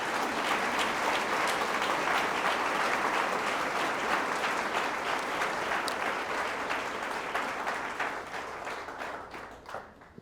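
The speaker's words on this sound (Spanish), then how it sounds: "¿Pueden darle un aplauso al Rey de Reyes?" Applause from a church congregation fills the room loudly and steadily, a dense wash of clapping that holds for most of the stretch before thinning and fading out near the end.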